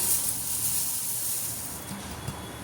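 Dried drumstick leaves roast in a hot pan on the stove with a soft, steady hiss and faint crackle, close and fairly quiet, with a couple of small scraping clicks near the end.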